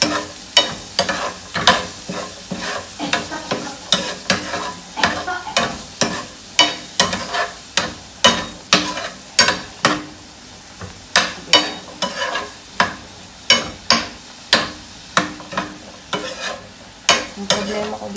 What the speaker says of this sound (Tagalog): Dito naman, gigisa ko na yung bawang at sibuyas.